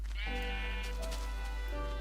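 A single sheep bleats loudly and close, a wavering nasal call lasting about two seconds over a constant low hum.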